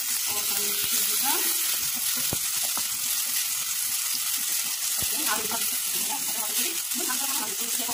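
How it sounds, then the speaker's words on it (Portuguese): Tuscan sausage frying in a pan with tomato, stirred now and then, giving a steady close sizzle with brief scraping clicks from the utensil throughout. "Outra mexida."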